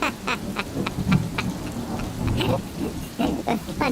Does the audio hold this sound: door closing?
no